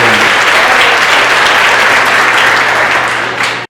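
A church congregation claps in sustained, dense applause, loud and steady throughout before tapering off abruptly at the end.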